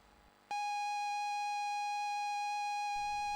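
Old computer modem-style screech from vintage BASIC-era computer hardware, starting abruptly after a moment of low background noise and holding a loud, steady, piercing electronic tone for about three seconds.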